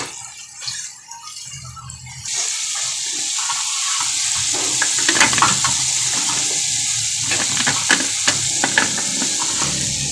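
Chicken curry with curry powder and coconut milk being stirred in a pot, a steady wet sizzle with scraping stirs and intermittent clinks, fairly loud and close, no talking.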